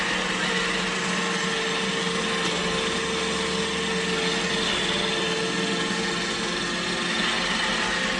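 An iRobot Roomba i7+ robot vacuum works along a baseboard, giving a steady close whirring motor drone with a high whine and no voices.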